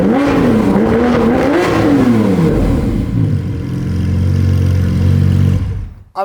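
Novitec-tuned Lamborghini Aventador SVJ Roadster engine revved up and down in a couple of loud, close swells, then settling into a deep, rumbling idle before cutting off.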